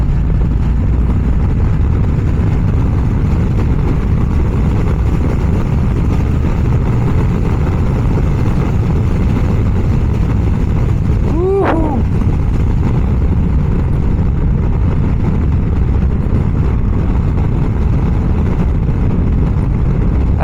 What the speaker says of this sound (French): Le son de l'air quand même, de la bulle